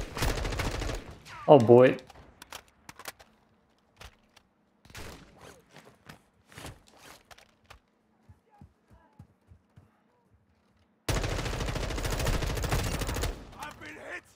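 Gunfire in the video game Warzone 2.0 DMZ: a loud burst at the start, scattered single shots and faint distant pops through the middle, then a long loud automatic burst near the end, with a brief spoken exclamation.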